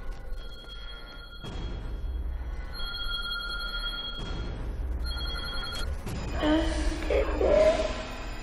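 A telephone in a phone booth in a remote village rings in repeated tonal bursts over an eerie horror-film score, with gasps and tense voices rising toward the end.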